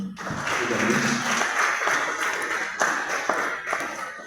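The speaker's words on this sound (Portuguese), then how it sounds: "Aplauda ao Senhor." A church congregation at a Tuesday prayer service claps together, a moderately loud, fairly even burst of applause with a few sharper taps and thuds near the end.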